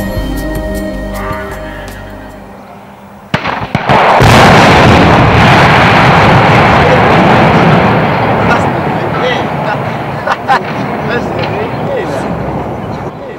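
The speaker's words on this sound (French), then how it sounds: "Pour abattre ces 700 tonnes de ferraille, il suffit de 4 petites charges creuses bien placées et le tout bascule dans l'eau." Demolition blast bringing down the 700-tonne steel structure of the Expo.02 Blur cloud at Yverdon with four shaped charges, a sudden loud crack followed by a long heavy rumble and roar of collapsing metal that slowly fades.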